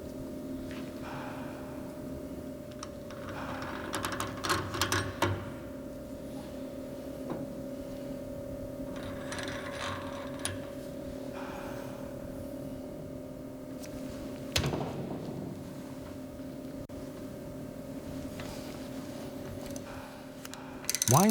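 A retainer is wound into a Meritor axle housing during a refit, giving faint intermittent ratcheting and mechanical clicks over a steady low hum, with a louder knock partway through.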